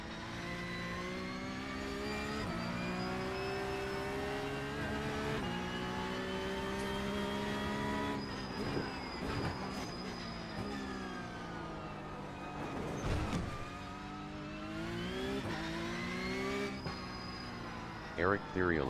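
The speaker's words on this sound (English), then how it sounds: "car sounds great" Race car engine in iRacing howls through repeated rising revs and upshifts, loud and steady, with a few sharp transient knocks later on.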